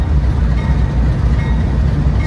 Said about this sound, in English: This might be the first train through since they opened up from the derailment.